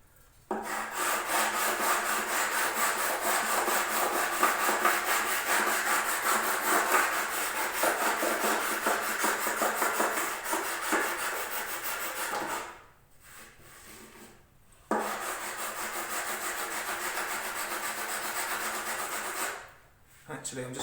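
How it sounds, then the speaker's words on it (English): A leveling beam with 400-grit abrasive rubs back and forth over mountain dulcimer wood in rapid, rhythmic scraping strokes, close and steady, pausing briefly twice before resuming. "now I'm going to use my leveling beam just to smooth them off a bit more"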